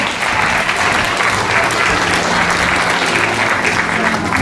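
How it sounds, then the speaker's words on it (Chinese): Sustained applause from an audience at a 2018 kindergarten graduation ceremony, welcoming teachers as they are introduced; steady, dense clapping for the whole stretch. "掌声欢迎他们。"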